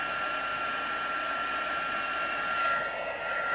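A handheld heat tool blows steadily on embossing powder for a wedding card's vellum shaker envelope, a continuous close fan-like whoosh with a faint high whine, briefly louder near the end.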